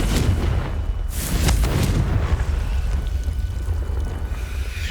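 The Confringo fire spell explodes in Hogwarts Legacy: a sharp blast near the start, then a rumbling roar with crackle that slowly fades, with no voices.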